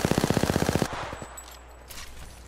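Rapid automatic gunfire in a video game, likely from the CAR SMG, a loud close burst of about a dozen evenly spaced shots that stops abruptly, followed by a few fainter trailing pops and echo.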